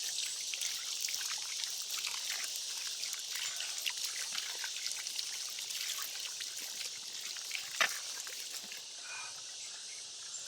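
Water trickling and pouring in a steady faint stream outdoors at a hillside camp, continuous light splashing with no talk.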